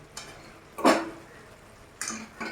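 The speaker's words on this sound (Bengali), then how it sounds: "এবার আমি এটাকে মশলার সাথে মিশিয়ে নেব।" A utensil scrapes and clatters in a pan as prawns are mixed with spices, a few short, close, distinct strokes separated by quiet pauses.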